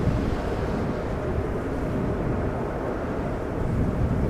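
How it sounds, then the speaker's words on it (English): EasyJet Airbus A319 airliner arriving at Amsterdam Schiphol Airport on runway 06, a steady low rumbling roar of engine noise with some wind, continuous and fairly even throughout. "Next up is EasyJet A319 arriving from Palma de Mallorca"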